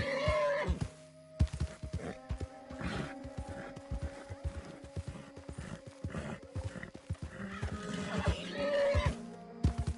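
A horse in the video game Red Dead Online on PS4 whinnies loudly near the start and again near the end, with clip-clop hoofbeats and game sound effects in between.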